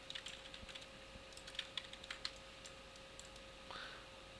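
Keyboard shortcuts and mouse clicks while working in 3D modeling software: sparse, faint, irregular clicks and key taps over a steady electrical hum, with no talking.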